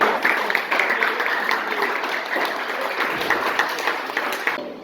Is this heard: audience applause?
yes